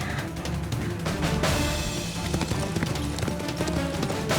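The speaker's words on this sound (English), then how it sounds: "Oh, there's horses." Horses clip-clop at a steady trot nearby, hooves thudding in a quick rhythm over a continuous rumbling background.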